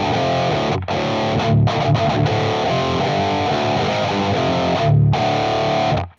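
Electric guitar run through a Wampler Tumnus overdrive as first gain stage into a UAFX Lion 68 amp, playing a loud, sustained distorted riff with a few brief gaps, close and alone without talk.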